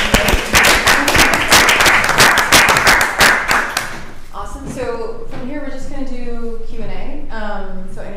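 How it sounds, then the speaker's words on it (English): An audience at a public meeting on an open space and recreation plan applauds loudly for about four seconds, then the applause fades out as a voice begins speaking. "Give them a round of applause."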